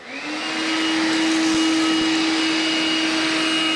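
A Makita XLC02ZB 18V cordless vacuum fitted with a Cyclone dust-separator attachment runs at a steady, loud whine close to the microphone, with a constant pitch and no speech over it.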